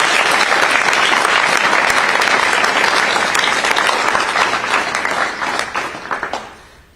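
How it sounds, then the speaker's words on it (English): Audience applause fills the room at a Tri-M Music Honor Society induction ceremony, a steady dense clapping that holds loud for about six seconds before tapering off at the end. "Let's give them a big round of applause."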